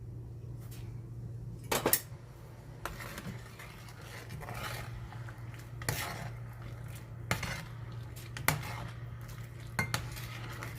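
A utensil stirs yen ta fo soup in a pot, with scattered metallic clinks and scrapes against the pot over a low steady background hum, fairly quiet and with no speech.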